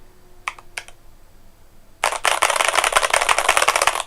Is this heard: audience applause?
no